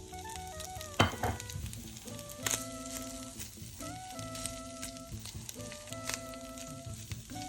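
Chanterelle mushrooms frying in foaming butter in a small pan: a soft, steady sizzle with occasional clinks and scraping as they are stirred, fairly quiet and close, no talking.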